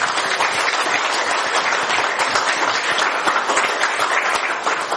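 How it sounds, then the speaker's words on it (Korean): Dense, sustained applause from a crowd at a progressive party national committee meeting, many hands clapping evenly throughout without letup. "그럼 큰 박수 부탁드립니다"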